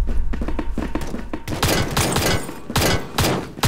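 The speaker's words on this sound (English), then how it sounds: "Why are you shooting?" Rapid gunfire rattles in a Roblox shooter game, a quick run of loud shots followed by heavier overlapping bursts, close and continuous with no talk.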